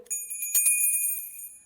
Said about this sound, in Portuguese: Esse sininho, ele vai tocar cada vez que nós fazemos um programa novo